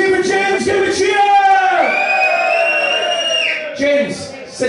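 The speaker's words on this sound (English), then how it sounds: "come on, big cheer for James, give a cheer!" A crowd at a football pre-match show for Sunderland against Rochdale cheers and whoops loudly and continuously for several seconds, with voices yelling through the roar.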